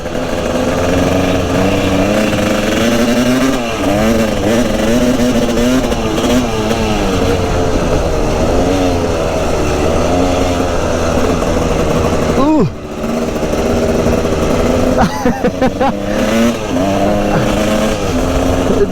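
A supermoto dirt bike engine drones steadily while riding on a cold day, its pitch rising and falling with throttle changes, loud and continuous with a brief dip near the end, and a person talks over it.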